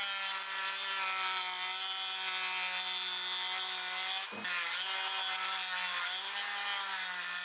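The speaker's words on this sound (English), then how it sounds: "And I'll do that with a cutting disc on my Dremel." A Dremel rotary tool with a cutting disc slices a slot into a wooden snake fishing lure, a steady high-pitched whine with a rich harmonic drone, briefly dipping once as the disc bites before resuming.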